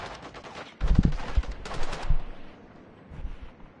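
Shotgun blasts in the Call of Duty Modern Warfare 2 campaign, with a cluster of loud, sharp booming shots in quick succession, followed by lower rumbling fire that tails off.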